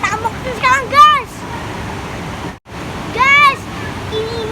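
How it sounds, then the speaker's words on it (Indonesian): A waterfall at Srambang Park in Ngawi roars steadily beneath the voices of children and adults talking close by, with a brief dropout near the middle. "Tuh ada air terjun."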